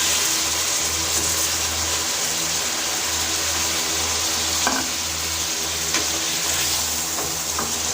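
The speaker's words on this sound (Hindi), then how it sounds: "लहसुन अदरक को अच्छी तरह से हम भून लेंगे इसको" Garlic and ginger paste fries in a pan, a dense close sizzle running throughout with a few scraping stirs near the end, and no voices.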